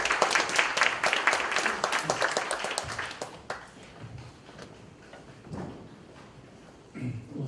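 Applause at a pastors' prayer gathering, a burst of clapping that fades after a few seconds into quieter room sounds, with some scattered knocks and shuffles afterward.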